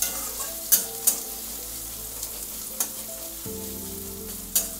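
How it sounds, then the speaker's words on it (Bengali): Chopped onion, one large onion's worth, frying in oil left over from jackfruit kofta, giving a steady sizzle with a few sharp stirring clicks, close and moderately loud, no voices. "ওই তেলে পেঁয়াজ কুচি দিয়ে দেবো, একটা বড় সাইজের পেঁয়াজ কুচি,"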